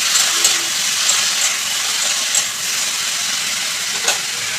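Chopped pineapple is added to hot panch phoron in a pan and stirred, giving a loud, steady sizzling hiss with a few faint scrapes of the spoon.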